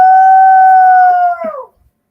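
A person howls to imitate a dingo in the outback. The single loud, sustained tone holds steady, then bends downward and fades out at the end.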